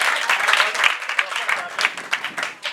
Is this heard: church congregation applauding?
yes